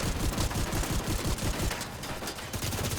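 Rapid automatic gunfire in The Division 2, a dense close fusillade of repeated shots with brief gaps, no talk over it.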